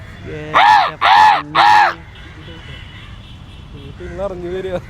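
A man's repeated loud calls draw crows, which caw back in a loose string of harsh, nearby cries after him.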